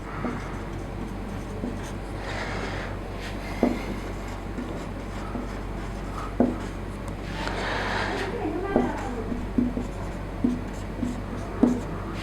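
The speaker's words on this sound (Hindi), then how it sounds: "जब तक मैं क्वेश्चन लिखता हूँ" Someone writes out a question by hand: a steady scratching of the writing tool, broken by sharp taps and short strokes at irregular intervals, up close over a low background hum.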